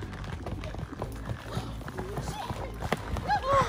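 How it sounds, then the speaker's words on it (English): Horse hooves clip-clop in a quick rhythmic patter, likely at a run, under people talking. "It's a horse."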